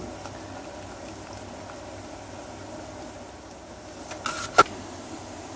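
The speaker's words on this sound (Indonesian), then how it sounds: "air habis rebusan sayur tadi kita pergunakan untuk merebus tauge" Bean sprouts simmering in leftover vegetable cooking water, a soft steady bubbling hiss at low level, with a brief clatter near the end.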